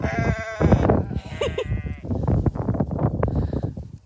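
Sheep bleating on a farm, several loud, close bleats from more than one animal in quick succession with farmyard background noise.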